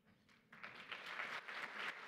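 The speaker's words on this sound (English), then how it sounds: "Please continue that applause" Audience applause at a leadership conference, starting softly and swelling into steady, sustained clapping from a large room, heard alone without talk.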